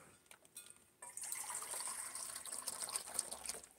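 Water runs from a tap to fill a dog's water bowl, starting after a brief pause and continuing as a steady hiss with faint splashing, fairly quiet and with no voices.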